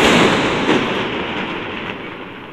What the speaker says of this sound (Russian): Салют.